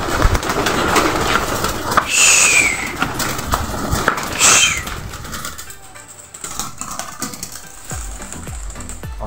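Pigeons coo and flap their wings nearby, with bursts of wingbeats and fluttering, some metallic rattling, and then quieter surroundings near the end.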